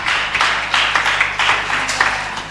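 Sustained crowd applause at a museum event, many hands clapping in a dense, even roar that swells slightly in waves.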